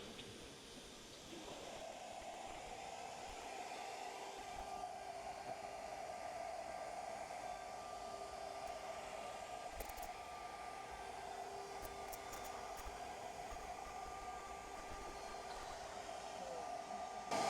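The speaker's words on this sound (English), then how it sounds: "So this is finishing to clear this one pocket." A Shaper Origin handheld CNC router cuts a pocket in a steady, continuous high-pitched whine. A dust-extraction rush sits under it, holding at an even, close level throughout with no talking.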